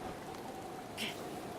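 Steady, even hiss of rain falling in Zelda Breath of the Wild, continuous and fairly soft across the whole stretch, with a brief brighter blip near the middle.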